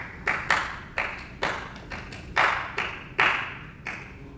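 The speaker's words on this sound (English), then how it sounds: "rhythmic clapping" Hands clapping outdoors after a Sunday church service, accompanying sung spirituals: sharp, close claps in an uneven, syncopated rhythm, often in quick pairs, with no voices over them.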